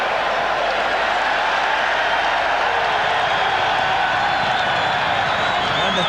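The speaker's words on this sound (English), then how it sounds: "And the crowd absolutely going mad here every time Brendan Tuta takes the ball" A rugby league crowd at a 1989 Kangaroos versus Kiwis match in Rotorua roars loudly and continuously, a dense, distant wash of cheering that swells toward the end.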